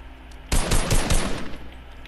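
Assault rifle gunfire in Fortnite, a loud, sustained burst of rapid automatic shots lasting over a second, close and dense, with no talking over it.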